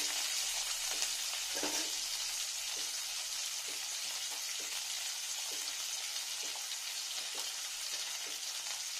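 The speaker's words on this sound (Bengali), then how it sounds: "এরকম মার্কেটের পেঁয়াজ, একটু কাঁচা তেলটাতেই দিলাম, টেস্টিটা ভালো হবে। পেঁয়াজটা দিয়ে নিলাম" Onions frying in raw mustard oil, a loud continuous sizzle close up, broken by soft repeated taps and scrapes of stirring.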